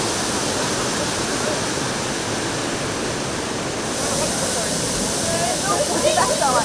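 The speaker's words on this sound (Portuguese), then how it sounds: "São 18 metros de queda d'água que rasgam os paredões de pedras, formando esta piscina natural" Steady, dense roar of an 18-metre waterfall pouring over rock walls into a natural pool, a continuous broadband rush that stays loud throughout with faint splashing brightening near the end.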